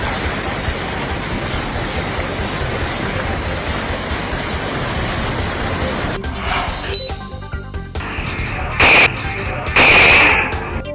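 Gunshots fired by motorcycle thieves caught by their victim in South Lampung, a few sharp cracks and bursts after several seconds of steady hissing noise, with no speech.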